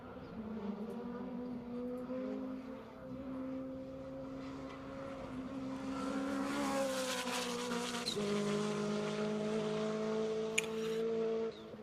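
Race car engine howling around the track during a time attack session at Road Atlanta, a sustained high-revving tone that climbs, shifts down and rises again as the car passes, with faint tire noise.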